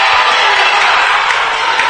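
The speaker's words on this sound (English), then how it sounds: "The Panthers crowd has come alive." Panthers basketball home crowd cheering in a gym, a loud sustained roar of voices and shouts filling the room during a close game.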